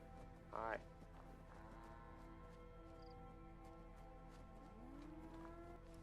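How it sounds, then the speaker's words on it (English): Cattle in the Fallout: London video game give two long moos, one loud and close near the start and a rising one near the end, over a steady game soundscape with a voice speaking. "wonder whose cows these are."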